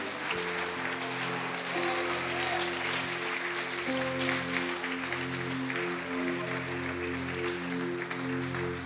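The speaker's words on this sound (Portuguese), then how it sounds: "Você pode aplaudir o Senhor Jesus por isso?" A church congregation applauds in a sustained, dense wash of clapping over held keyboard chords during a fasting and prayer service.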